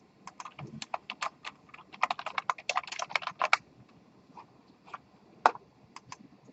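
Fast, close clicking on a computer keyboard, with dense bursts of keystrokes through the first few seconds and then a few scattered, separate taps.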